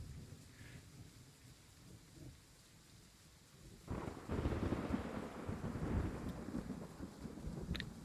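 Rain with a rolling thunder rumble in a train simulator game: a quiet steady patter, then a louder sustained roll of thunder building and lingering over the rain.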